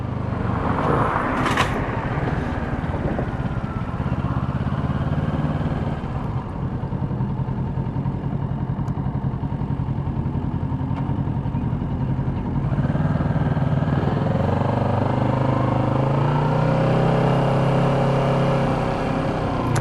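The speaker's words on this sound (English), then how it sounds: "It just doesn't have any exhaust. That's why it's loud." A loud, rough motorcycle engine with no exhaust fitted runs steadily nearby with no muffling, rumbling and revving slightly for about twenty seconds.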